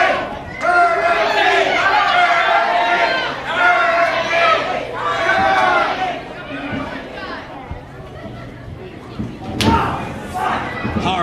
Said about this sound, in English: And the crowd is behind Hurricane right now.